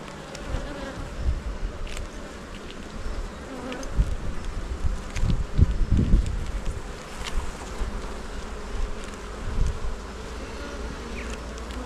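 Honey bees buzz steadily around an open hive during an inspection of brood frames, a close, continuous droning hum that swells louder in the middle, with faint wind noise underneath.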